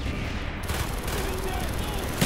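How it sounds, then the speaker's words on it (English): Mortar fire in the video game Call of Duty: Black Ops bursts out as dense, rumbling gunfire-like blasts over continuous battle noise, with a voice faintly present. "firing mortar"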